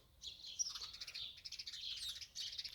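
Birds chirp and tweet continuously while being fed scattered grain, faint high calls overlapping with no talk.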